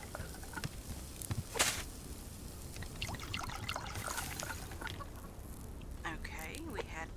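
Water is poured onto crops in the survival video game Subsistence: intermittent trickling and splashing bursts over a busy game background, with a voice present.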